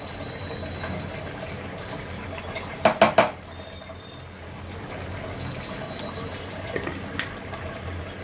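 A utensil clinks sharply a few times against a pan while shrimp and sweet pumpkin curry is stirred on the stove. The quick knocks come in a short cluster, then a couple of fainter taps over a quiet kitchen hum.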